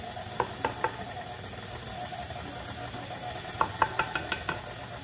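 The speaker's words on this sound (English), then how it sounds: "I hear me knocking the bowl." Two small clusters of sharp knocks on a bowl, three raps early and another quick run of five or six later, over a low steady hiss.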